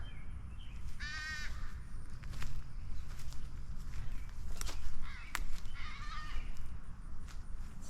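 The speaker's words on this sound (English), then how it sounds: "I hear a crow." Several crows caw in a cemetery, a few harsh calls at moderate distance around the start and middle, over steady outdoor background noise with scattered soft footsteps.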